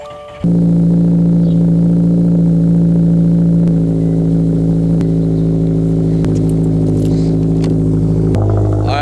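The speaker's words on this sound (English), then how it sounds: "the exhaust is a bit too loud" A Subaru WRX idles loudly and then revs through its exhaust, a steady deep drone with brief surges, close and on its own with no voices.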